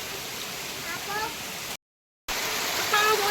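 Water still running through a house damaged by a cloudburst, a continuous close hiss of flowing water broken by a short silent gap; a voice speaks over it.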